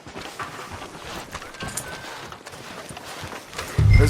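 A horse's hooves clop at a walking pace on a town street in Red Dead Redemption II, soft and fairly close under ambient noise, with a voice beginning at the end.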